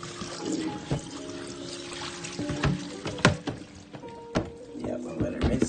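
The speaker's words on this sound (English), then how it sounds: "You're going to pour that water off." Water poured off chitterlings in a kitchen, with splashing and trickling, intermittent knocks of a pot or bowl and faint background sounds.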